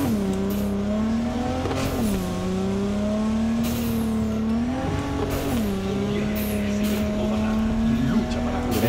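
A car driving through the Cyberpunk 2077 city, its engine a steady hum whose pitch rises and falls through several shifts, with faint ambient game sounds and voices underneath.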